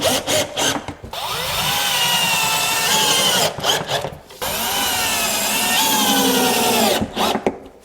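A power screwdriver drives screws through a cabinet into wooden wall studs in two long, loud whirring runs, each rising in pitch as the screw bites, with short clicks and pauses between.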